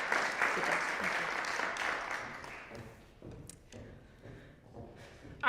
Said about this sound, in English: Let's give one more big round of applause to Ariana.